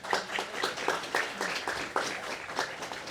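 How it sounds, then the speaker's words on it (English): Audience applause at an opening ceremony, a steady burst of many hands clapping close by, filling the short moment on its own. "An applause, please."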